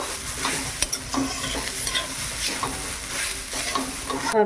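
Grated coconut is lightly fried in a pan in a village kitchen, a steady soft sizzle with scraping stirs and occasional utensil taps against the pan, close and unvoiced.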